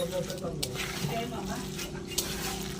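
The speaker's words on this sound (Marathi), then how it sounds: "असं व्यवस्थित मिक्स करून घ्यायचं." Food is stirred in a pan with soft scraping and clinks over a low steady hum, a person talking at the same time.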